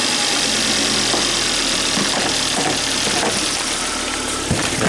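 Engine of a Volvo car with a crank no-start problem, now running just after starting, drones steadily and loudly at idle with a low, slightly knocking hum and a few faint knocks.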